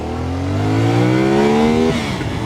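A 450SR motorcycle engine revs up steadily, pitch climbing over about two seconds, then drops off with a rough, close-up motor rumble, no talking.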